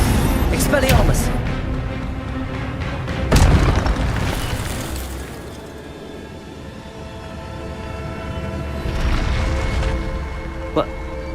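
An Expelliarmus spell is cast in Hogwarts Legacy, a deep booming blast that swells and fades, followed by a rumbling magical roar with another swell later, under game ambience and a speaking voice.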